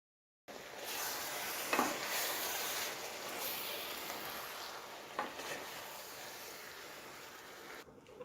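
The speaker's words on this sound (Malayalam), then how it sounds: "നമുക്ക് അവിയലെല്ലാം കൂടി ഒന്ന് ഇളക്കിയെടുക്കാം." A pot of Kerala aviyal, mixed vegetables cooked in a coconut paste, is quietly stirred, giving a soft bubbling hiss with a couple of brief scraping strokes from a spoon against the pot.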